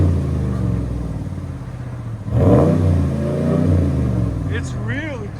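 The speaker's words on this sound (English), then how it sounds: "For that big of a body muffler, I'm surprised how loud it is." A 2023 RAM 1500 pickup with a 5.7L HEMI E-Torque V8 and a Magnaflow cat-back exhaust idling with a deep rumble, then revving sharply and settling, close by while someone talks over it.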